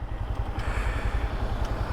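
A 2023 Honda Grom's 125cc air-cooled single-cylinder engine idles with a steady low, lumpy putter, close by, with no talk.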